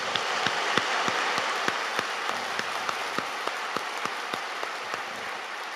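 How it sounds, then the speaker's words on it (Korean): Steady applause from a church congregation, with a regular, rhythmic clap cutting through the wash of hands, sustained at an even level. "우리 박수를 한번 부르겠습니다."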